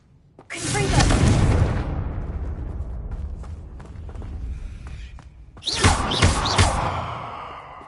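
The Confringo fire-blast spell in Hogwarts Legacy goes off as two heavy booming blasts a few seconds apart, each with a whooshing rush and a rumbling tail.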